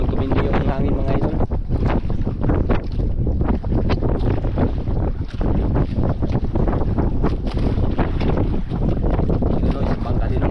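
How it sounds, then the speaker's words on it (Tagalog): Strong wind at sea buffets a fishing boat, steady loud rushing and microphone wind roar with gusty bursts and sloshing water, voices faint underneath. "Mas lalong tumindi yung hangin mga idol."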